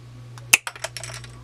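A sharp snip of filament cut with pliers, followed by a few small clicks and taps, close up, over a low steady hum.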